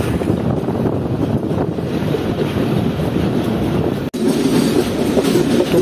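A freight train rumbles along at about 55 in heavy rain and a thunderstorm, a dense close roar of wheels, wind and rain against the locomotive, steady throughout with one brief dropout.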